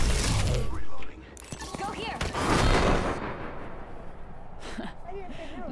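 Gunfire in a video game sounds as sharp, loud cracks and booming blasts, a few separate bursts spaced irregularly, mixed with mechanical clatter and other game effects.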